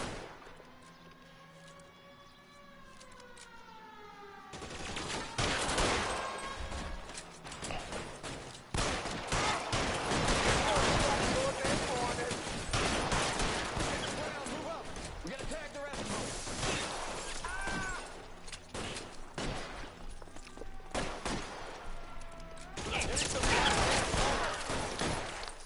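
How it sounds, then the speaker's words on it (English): A shootout in LA Noire opens with quiet tonal music, then bursts into a long, dense run of gunshots, shattering glass and crashes, with voices speaking under the chaos. "Another shootout."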